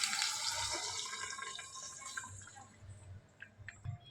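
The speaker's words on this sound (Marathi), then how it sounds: "आता ही डाळ शिजवलेली ओतून घेऊया ह्याच्यात." Cooked dal poured into a pan of roasted spices gives a soft liquid glug and splash, loudest at the start and easing into faint drips and small plops, with no voices.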